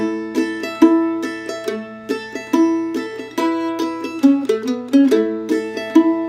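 A bright plucked mandolin picks out a short melodic lick over a faint steady hum, notes ringing in quick succession.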